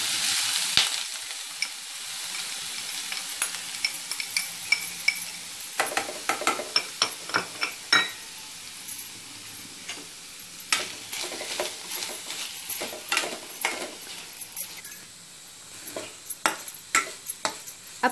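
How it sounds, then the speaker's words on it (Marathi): Grated coconut sautéing in ghee in a pan, a soft continuous sizzle broken by frequent sharp clicks and scrapes of a spoon stirring against the metal. "आपला खीस आता व्यवस्थित परतून घेतलेला आहे"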